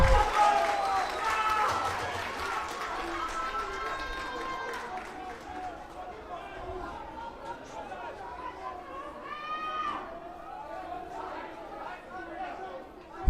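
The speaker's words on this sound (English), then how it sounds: "Valke faithful, could hear them cheer in the background" Rugby fans of the Valke cheer from the stands at an SA Cup match against the NovaVit Griffons, a broad steady crowd roar heard at a distance beneath ongoing commentary.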